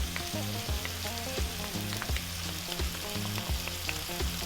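Tomato paste sizzling and frying in a pot over medium heat for a lamb dish, a steady close crackle with light stirring scrapes and no talking.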